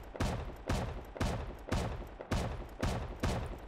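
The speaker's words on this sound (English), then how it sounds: "the shotgun trap now has its own custom sounds." A shotgun trap fires repeatedly in the video game Rust, seven heavy, booming blasts at a steady rhythm about half a second apart, each loud and close with a short decaying tail, with no talking.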